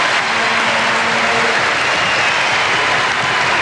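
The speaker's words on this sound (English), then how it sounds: "How about a round of applause for Mr. Tyson?" A basketball arena crowd at the 1995 Australian NBL All-Star Game applauds a contestant in a scoring competition, a loud, steady wash of many hands clapping that fills the space with no break.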